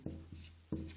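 Chalk or pen writing on a board during a geometry lesson, with three short stroke bursts in quick succession, close and fairly quiet, no voices.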